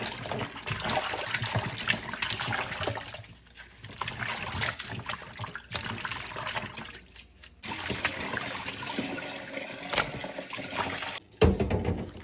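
Running water splashes and trickles steadily as duck meat is rinsed under a tap, with brief pauses and handling sounds.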